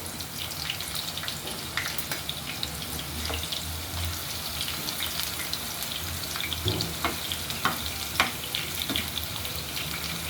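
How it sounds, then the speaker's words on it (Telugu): Onions frying in oil until brown for Hyderabadi chicken dum biryani: a dense crackling sizzle, close and steady, with scattered spatula scrapes and pops and no voices. "ఆయిల్ అయిన తర్వాత కొన్ని ఆనియన్స్ వేసుకొని బ్రౌన్ కలర్ వచ్చేంత వరకు వేసుకోవాలి"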